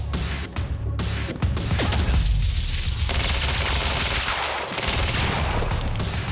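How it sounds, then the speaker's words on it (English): In the video game Quantum Break, a time bubble blows up under gunfire, with a dense, loud barrage of shots and crashing bursts running continuously throughout. "Like the time bubble thing blew up."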